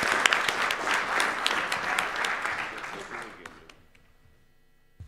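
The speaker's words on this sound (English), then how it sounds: "let's give these guys one more little round of applause" Conference audience applauding after a panel on payment flows, a dense burst of clapping that fades out over a few seconds, leaving near silence at the end.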